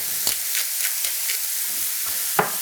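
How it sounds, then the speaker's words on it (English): Food being stirred in a hot frying pan while making mini beef wellington appetizers, a soft steady sizzle under a few light scraping strokes and a sharper clack near the end. "Give that a quick little stir."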